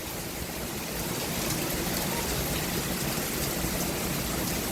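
Rain falls outdoors at a resort as a steady, even hiss with no breaks, moderately faint and continuous throughout.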